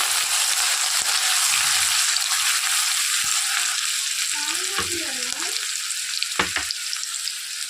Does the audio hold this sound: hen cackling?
no